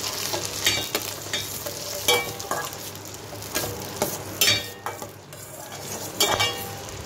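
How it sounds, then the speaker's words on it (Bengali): Soaked cashews and raisins being stirred around a hot frying pan, a steady sizzle broken by repeated spatula scrapes and clinks against the metal, close and fairly loud with no voices. "সেই কাজু কিশমিশগুলো জল থেকে দিয়ে দিলাম। একটু নাড়াচাড়া করে নেব।"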